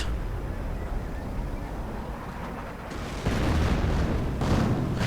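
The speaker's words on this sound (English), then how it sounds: "Nice registered artillery barrage. Nice mortar rain." A strategy video game plays a registered artillery barrage and mortar fire as continuous rumbling booms and blasts. The dense battle noise swells louder partway through.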